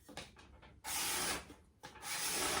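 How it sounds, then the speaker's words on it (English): A cabinet scraper works across the wooden back of a guitar in the making, giving soft, close rubbing and rasping strokes in short bursts separated by brief pauses, with no talk. "scraping off, and then just carefully just do that all over, scrape away all your marks"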